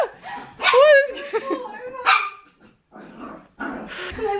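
A puppy barks and yips in several sharp close bursts with some growly whines, alongside excited voices talking.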